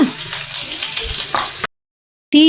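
Cauliflower Manchurian balls deep-frying in hot oil give a loud, steady bubbling sizzle that cuts off abruptly into silence, then a brief different tonal sound follows.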